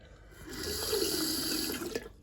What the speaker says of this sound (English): hot water comes out on the hot side